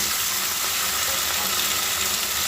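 Cauliflower, soybean chunks and potato hit a hot frying pan, giving a steady, close broadband sizzle with a watery hiss that holds evenly throughout, no voices.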